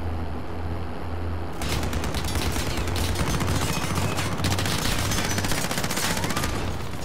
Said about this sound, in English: We just got gunned down